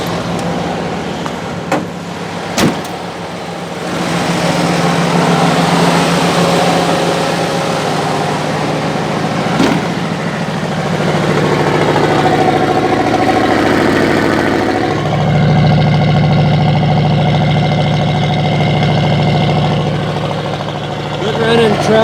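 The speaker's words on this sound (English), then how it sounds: "Gotta hear me a good running truck here." A 1953 Ford F800 truck's engine runs steadily at close range, a low mechanical drone that swells about midway and shifts pitch as the revs change before settling back.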